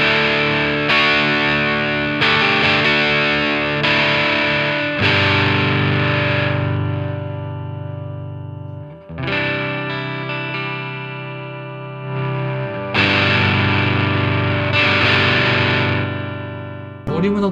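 Electric guitar through a Line 6 Catalyst amp with the boost button engaged, adding tube-style distortion: loud sustained chords and picked phrases in several bursts with brief pauses, thick and saturated, played alone.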